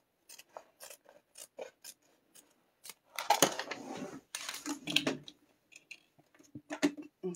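Scissors snip through excess quilting fabric in a steady run of short, close cuts, with a longer rustling stretch of handled cloth midway and a few more crisp snips after.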